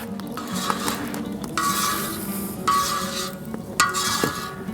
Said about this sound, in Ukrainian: Олія наша добре вже нагрілася, тому висипаємо м'ясо наше.